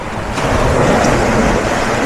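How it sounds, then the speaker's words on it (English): Ocean waves surge against a beach wall, a loud continuous rushing wash rising after a brief lull, with wind buffeting the microphone. "try and get some shots of the waves coming up"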